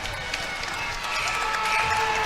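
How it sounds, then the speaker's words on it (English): A high school boys basketball crowd at a Lincoln versus Cleveland game keeps up a steady roar of cheering and clapping, rising slightly toward the end, broad and continuous with commentary voices mixed in. "This crowd is energized, Jacob, like it was on Tuesday night at Lincoln"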